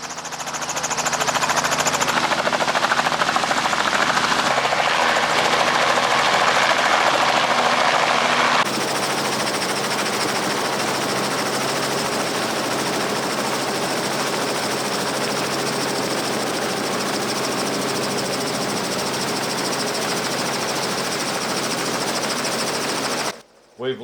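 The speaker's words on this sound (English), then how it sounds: "This is the same sort of helicopter that we're going to fly in" A loud, steady mechanical roar with a rapid rhythmic chop of a doorless helicopter's engine and rotor running up close, dropping slightly in pitch partway through.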